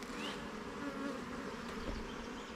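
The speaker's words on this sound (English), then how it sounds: "I would say that it's got bees in there" Honey bees in a bee yard, a steady close swarm of buzzing that holds constant throughout at moderate level.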